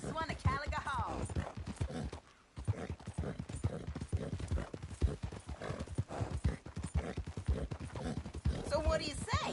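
A horse gallops in a race in the video game Red Dead Redemption 2, rapid close hoofbeats pounding steadily with a whinny near the start and another near the end, a brief lull midway, and a voice talking over it.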